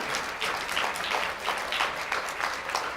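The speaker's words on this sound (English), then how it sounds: "Big round of applause." Conference audience applause on a traumatic brain injury topic, steady dense clapping with slight swells, heard on its own for a few seconds.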